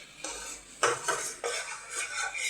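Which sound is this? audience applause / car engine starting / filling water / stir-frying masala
stir-frying masala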